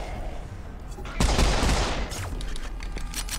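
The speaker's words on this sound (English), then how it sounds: "I definitely heard somebody shooting at me." Gunfire in the video game Serious Sam 4, with a sudden loud burst of rapid shots lasting about a second, then scattered quieter cracks and a faint hum of background game sound.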